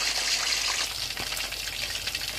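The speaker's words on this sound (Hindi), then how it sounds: "हम इसे दोनों साइडों तो से इतना फ्राई करेंगे कि बस इसे अच्छा सा कलर आ जाए" Chicken pieces frying in a pan on both sides for Lahori chargha, a soft continuous crackle and spatter of oil with faint popping, moderately quiet and without any talk.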